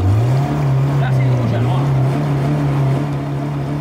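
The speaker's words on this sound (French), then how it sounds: "Là c'est le moteur qui aspire l'eau," An electric motor pumps water from a spring, giving a loud, steady low drone with a slight wavering pitch that carries throughout, close by, with no talking.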